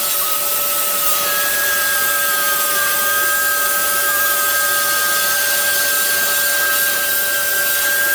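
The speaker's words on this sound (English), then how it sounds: "The vacuum cleaner sucks" Shop vacuum running steadily while cleaning around the intake of a 2015 GM truck's 5.3 GDI engine, a continuous loud broadband whoosh with steady whining tones throughout and no speech.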